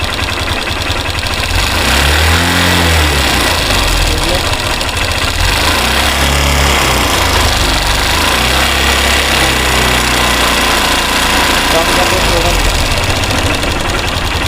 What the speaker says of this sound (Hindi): अभी हमारी बाइक आइडलिंग में है और साउंड सुने, इसके अंदर से kit kit kit kit sound आ रही है